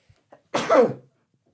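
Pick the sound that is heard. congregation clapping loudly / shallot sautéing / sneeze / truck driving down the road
sneeze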